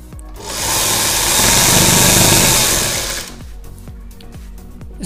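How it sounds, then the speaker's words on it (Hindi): A sewing machine runs a continuous stitching burst around a bell-bottom trouser leg, loud and close for about three seconds, surrounded by softer handling clicks and taps before and after. "अब सबसे पहले हम इसको एक पैर की सिलाई की मदद से पूरे राउंड सिलाई घुमा"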